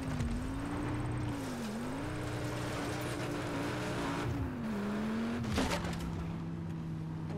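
Fast car in the video game Just Cause 3, a steady droning engine whose pitch rises and dips as it speeds along, with a brief sharp burst near the end, no talking.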